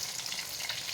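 Fish frying in hot oil with cumin, coriander and dry chilli: a close, steady bright sizzle with fine crackles running throughout, no voices.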